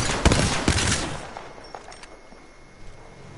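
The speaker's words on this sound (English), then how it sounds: "I'm taking shots." Gunfire in a video game, with a few sharp, loud shots close together at the start and then scattered fainter shots and a fading rumble, with no one talking.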